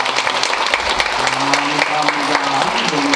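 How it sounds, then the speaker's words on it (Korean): A church congregation claps to welcome an elderly newcomer introduced during a Sunday service: dense, steady applause from a crowd indoors, continuous for the whole span, with a faint voice or hum threading underneath. "박수로 환영하겠습니다."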